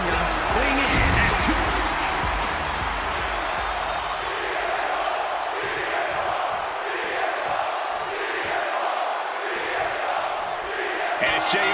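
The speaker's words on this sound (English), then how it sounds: "The crowd on their feet." Crowd roaring and cheering in a WWE 2K25 wrestling arena, a loud, dense, continuous wall of voices with a commentator talking over it near the start.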